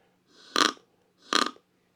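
A deer grunt call imitating a buck gives two short, deep guttural grunts about a second apart, close and alone against a quiet background.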